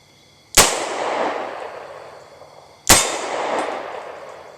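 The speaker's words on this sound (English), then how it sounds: "Let's try the next two shots double action." Two loud, sharp gunshots from a Smith & Wesson 638 revolver fired double action outdoors, a couple of seconds apart, each a crisp crack followed by a long echoing decay, with no talking in between.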